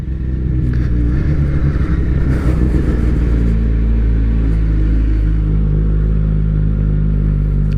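Yamaha FZ1-N motorcycle engine at a steady, loud low rumble while riding at a gentle pace through a village, with a brief rise in revs near the start before settling into an even drone.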